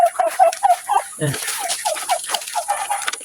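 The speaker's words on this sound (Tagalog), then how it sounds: "Ayan yung ating mga alagang pabo." A flock of domestic turkeys in their pen gobbling and clucking nearby, repeated calls overlapping steadily with no one talking.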